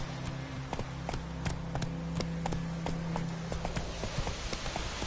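Roach, the horse in The Witcher 3, gallops with a quick, regular drumming of hooves, close and prominent over a low steady hum, with faint voices briefly underneath.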